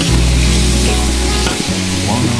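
Pork ribs with scallion, ginger, rock sugar, star anise, cassia and cooking wine sizzle loudly in a wok as light soy sauce goes in, with stirring scrapes and a steady, close frying hiss.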